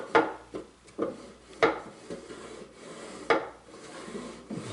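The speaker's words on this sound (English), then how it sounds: "Scrapes if you let that drawer drop." A wooden drawer in a side table scraping as it slides and drops, a run of rough rubbing strokes with sharp scuffs, close and fairly quiet with no talk.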